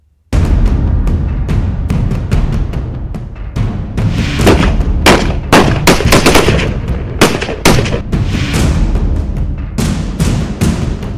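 Loud, close bursts of automatic gunfire rattle during soldiers' special counter-terror training in Kashmir, with sharp cracks and rapid volleys repeating steadily after a brief silent start.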